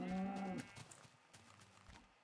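A short cow moo from the video game Minecraft, a single tonal low call in the opening half second, followed by faint soft clicks and game noises.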